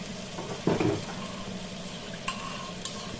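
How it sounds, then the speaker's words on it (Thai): Food is stir-fried in a pan, with a soft sizzle under intermittent scraping and stirring clatter, close and fairly quiet, including one louder stir near the start. "ทำไม่เป็นก็ต้องทำเป็นนะคะทุกคนผัดไปเรื่อยๆ นะคะ"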